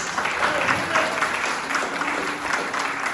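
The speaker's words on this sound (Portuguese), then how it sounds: "E as palmas são para Jesus." A church congregation claps together in a sustained wash of applause, fairly loud and close, with faint voices mixed into the crowd sound.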